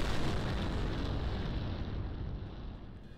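Bombs dropped from an aircraft in the video game SimplePlanes explode, a dense rumbling blast that stays loud and broad before slowly easing off.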